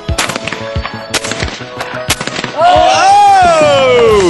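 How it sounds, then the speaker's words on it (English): Gunshots from an instructor firing at three targets at once in Zambia, heard as a rapid series of sharp, close, loud cracks and bangs, followed by a rising and falling whistling tone that dominates the end. "The instructor showed us how he could shoot three of them at the same time."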